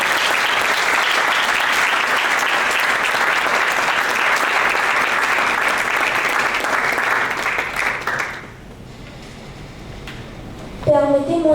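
A hall audience at an eloquence contest semi-final applauds with dense, sustained clapping that fades out after about eight seconds, followed by a brief voice at the end.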